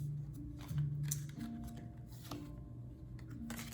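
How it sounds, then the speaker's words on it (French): Tarot cards gathered and shuffled: faint papery riffles and slides in short bursts over a low tonal background hum, quiet and close. "On va déjà prendre toutes les cartes là qui sont sorties."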